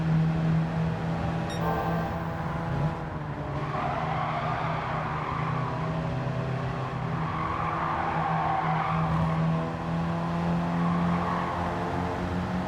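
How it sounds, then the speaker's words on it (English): A Porsche drag races down the back straight in Gran Turismo 7, its engine droning loud and steady with a rising pitch, a brief tire squeal at the outset, running alone without talk. "Then we have this drag race down the back straight, and I start reeling him in slowly"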